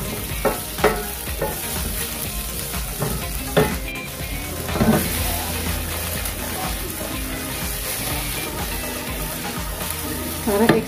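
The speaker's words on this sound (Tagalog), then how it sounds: "Piniprito ko po muna yung mga vegetable bago ko po sinasahog." Vegetables fry in a pan for Filipino beef mechado, giving a loud, continuous sizzle with occasional stirring scrapes and clinks, heard close and in the foreground.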